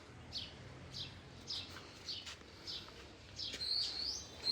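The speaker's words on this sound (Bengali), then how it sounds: "এই যে আমার পাখিগুলো দেখেন" Pet birds in a cage chirping, a series of short high tweets repeating at a loose, even pace, faint and fairly close against quiet background.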